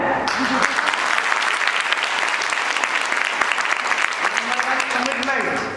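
Loud, sustained applause from an audience at a network-marketing company training session in Haridwar, with dense clapping running for several seconds and voices mixed in underneath.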